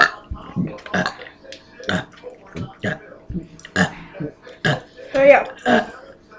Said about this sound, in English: We each get our own burp.